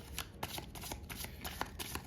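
Tarot cards shuffled close up in quick, crisp riffling bursts, a steady papery flutter with soft taps between runs and no voice.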